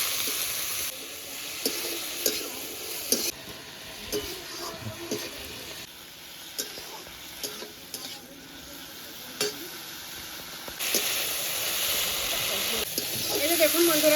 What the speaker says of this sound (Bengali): বেশ ভালো করে সিম আর আলুটা ভেজে নেব।